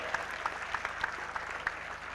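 An audience at a university convocation applauds for the children, a fairly quiet, steady patter of clapping with a few sharper individual claps, heard from a distance.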